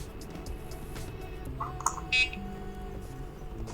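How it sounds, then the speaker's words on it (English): A short electronic beep sounds once from a Jacdac magnet sensor module detecting a magnetic field, then a slightly longer tone follows, faint against a low background hum. "the sensor detects the magnetic field and beeps"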